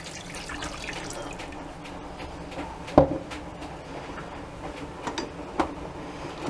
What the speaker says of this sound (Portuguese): E vamos pôr os 400 ml de leite morno.